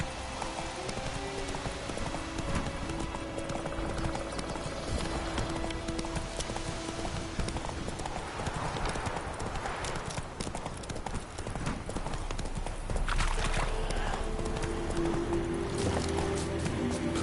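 Horse hooves gallop in a video game, a fast, continuous clip-clop rhythm that stays close and picks up slightly in force toward the end.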